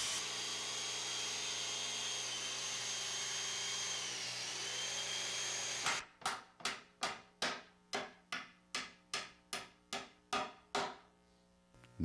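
Power tools at work building a model railroad layout: a long continuous whining drill or saw drone, then a dozen sharp regular bursts of cutting or hammering, loud and close.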